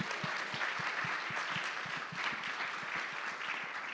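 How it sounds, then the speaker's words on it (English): An audience applauds panelists at a fundraising skills session, with a steady wash of many hands clapping throughout, fairly close and even, with no talk over it. "Let's give our panelists a round of applause."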